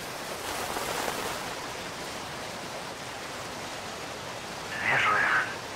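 A waterfall in the video game Call of Duty: Ghosts gives a steady, diffuse roar of falling water throughout, with a short brighter burst of another sound near the end.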